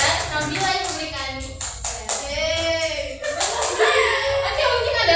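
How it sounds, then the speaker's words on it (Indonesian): Applause in a classroom during a microteaching lesson on archive filing, a burst of many hands clapping close by that runs steadily for several seconds, with students' voices mixed in underneath. "berikan aplaus dulu dong"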